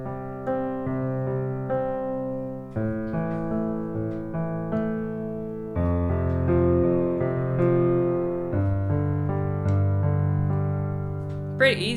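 Piano left hand rocking through a root, fifth and root pattern of each chord, eight even notes per bar repeated twice, steady mid-register tones sustaining with clear chord changes, played alone.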